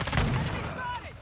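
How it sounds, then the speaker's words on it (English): Shotgun fire in the Modern Warfare 2 video game, heard as a loud, dense low boom at the start that carries through the brief clip with some game noise over it. "I can hear your shotgun."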